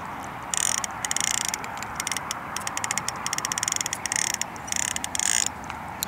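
A fishing reel is wound in while casting a wobbler for chub, giving a rapid mechanical ratcheting clicks in several bursts with short pauses, close and clear over quiet outdoor background.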